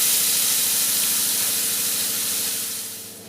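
A spice paste of onion, ginger, garlic, dried chilli, tomato, coriander and cumin hits hot oil with a loud, dense, continuous hiss that fades slightly toward the end; no voices.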